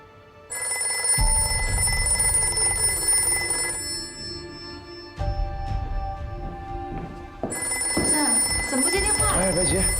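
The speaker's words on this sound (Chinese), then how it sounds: "怎么不接电话？" A telephone rings in a tense Chinese wartime drama scene, its bright repeating bell tones sounding in long bursts over a low music bed, fairly loud and close.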